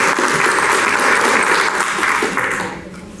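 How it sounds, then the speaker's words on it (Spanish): Audience applause for the teachers at a school training session, a steady dense clapping that starts loud and fades out over the last second, with no talk over it. "Un aplauso también para ellos."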